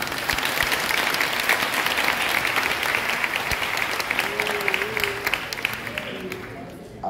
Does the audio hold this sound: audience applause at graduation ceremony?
yes